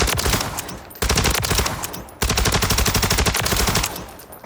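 Rapid automatic fire from a gun in a Call of Duty game, three long, loud, close bursts of fast rhythmic shots with short breaks between them.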